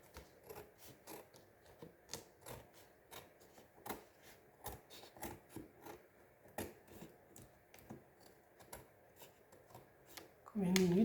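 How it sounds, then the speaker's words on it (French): Scissors trimming off excess material from a storage block craft project, producing a steady series of quiet, close snipping clicks at an irregular pace, with a louder rustle at the very end. "on va le découper"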